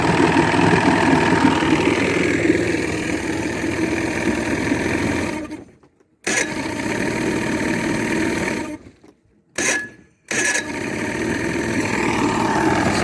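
An Evinrude Johnson 85hp V4 crossflow outboard motor running at a steady idle, a close buzzing drone that cuts out briefly a few times before resuming, with no talk over it.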